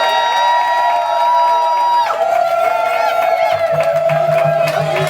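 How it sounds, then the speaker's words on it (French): Guests at a civil wedding ceremony cheer with loud, sustained high-pitched whoops and voices. Crowd noise swells over the cheering partway through. "Applaudissez."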